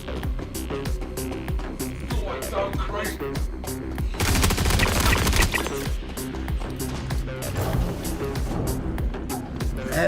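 Automatic gunfire in Star Citizen, with rapid bursts and sustained fusillades rattling over a dense game soundscape, loud and continuous across the whole stretch, with a heavier barrage midway.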